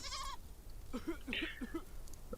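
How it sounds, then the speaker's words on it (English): A goat in the Deponia Doomsday video game lets out a short, near bleat at the start, followed by softer, scattered game sounds. "Ой-ой-ой, бедная козочка."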